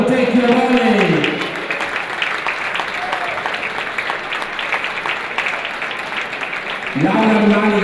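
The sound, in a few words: audience applause at volleyball award ceremony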